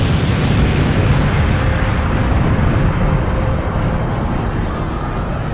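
A bomb explodes against a commissioner's car, giving a loud, sustained roaring rumble that fills the whole stretch without easing off.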